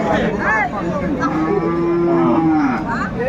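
A cow with a calf at the Aftabganj cattle market lets out a long, loud moo up close, with a busy market murmur behind it.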